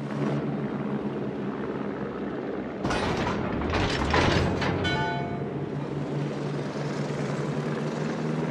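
A spotter plane launches in World of Warships: a brief roaring propeller-engine burst rises for about two seconds over a constant ship and ocean rumble, then fades back into the steady background.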